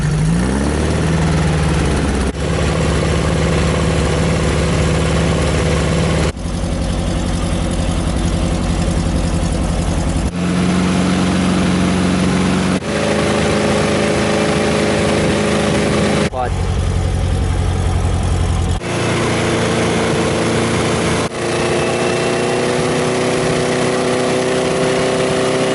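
An engine idles at about 900 RPM, a steady low mechanical rumble with a continuous hum, interrupted by several abrupt cuts, while someone talks over it throughout.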